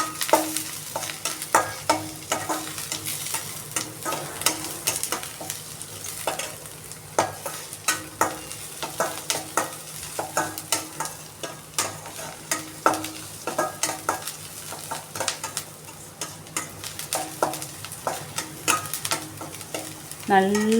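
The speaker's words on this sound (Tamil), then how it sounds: "2 கட் பண்ணி வச்சுருக்க பச்சை மிளகாயை போட்டு அதையும் நல்லா ஃப்ரை பண்ணிக்கணுங்க." Chopped green chillies fry in oil for wheat rava upma, crackling in a steady close sizzle broken by frequent quick spatula scrapes and taps in an even rhythm throughout.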